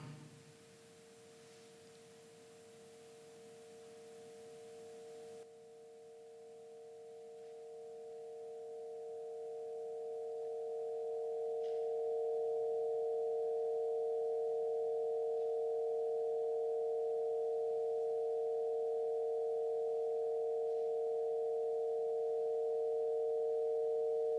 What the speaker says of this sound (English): We're hearing what sounds like a static chord, with some of the lines brighter and therefore louder than others.